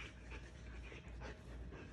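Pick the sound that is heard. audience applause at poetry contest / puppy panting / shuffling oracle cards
puppy panting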